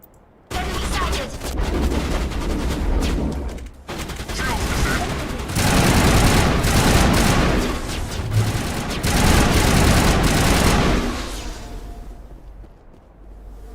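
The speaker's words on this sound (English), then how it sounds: "there are flashes over the horizon, but I guess it's heavy arms fire" Heavy arms fire rumbles in the Mass Effect video game, dense overlapping bursts and booms rolling continuously for over ten seconds, loud and close, before tapering off near the end.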